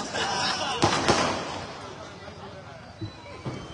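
Firecrackers bursting during a political gathering, several sharp cracks spaced out across the clip over a busy crowd and hall noise, with talk in the background.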